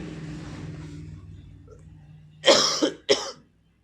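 Two sharp, harsh coughs burst out close to the microphone in quick succession, following a stretch of quiet voice.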